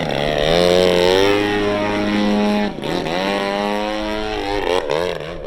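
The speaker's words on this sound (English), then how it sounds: "High alpha, inverted, across the runway." A propeller-driven aerobatic airplane rolls inverted at high angle of attack across the runway at a Janesville/Beloit air show, its engine droning loud and steady with pitch sweeps as it passes.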